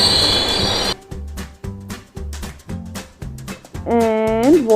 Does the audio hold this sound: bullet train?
yes